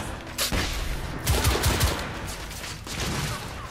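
Gunfire in The Order: 1886, a burst of several quick shots followed by scattered reports and rumbling, fairly loud with no one talking over it.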